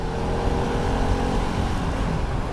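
Bajaj Pulsar RS200 motorcycle engine running on a city street, a steady loud engine drone with revving across the whole stretch amid traffic noise.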